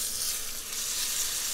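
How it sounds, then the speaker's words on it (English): Seasoned rock bass fillets set down in a hot skillet, giving a loud, steady hissing sizzle close up that carries on evenly through the brief moment with no voices. "I'm gonna go ahead and stick these two pieces down in the skillet"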